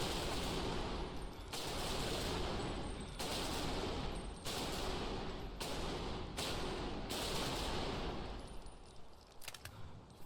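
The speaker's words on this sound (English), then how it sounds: "Fire inside a tiny bathroom," Loud, overwhelming gunfire inside a tiny bathroom in the video game Bodycam, with a series of about seven heavy bursts separated by brief gaps and booming, reverberant bass filling the enclosed room.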